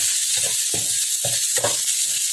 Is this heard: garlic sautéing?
yes